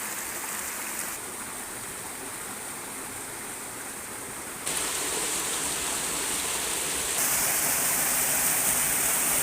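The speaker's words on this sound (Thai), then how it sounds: "นี่คือน้ำตกตาดเนาะทุกคน" A forest waterfall in rural southern Laos roars with a dense, steady rush of falling water. It is loud and unbroken, and it grows fuller as the listener moves nearer.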